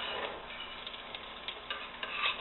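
Onions and garlic sizzle in hot olive oil in a saucepan, a soft steady hiss broken by small crackling pops while they are stirred. The sound is fairly faint and there is no talking.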